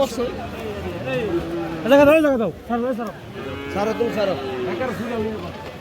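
Cross-breed cattle lowing loudly at a busy livestock market, several drawn-out moos rising and falling over a few seconds amid a steady hubbub of crowd voices.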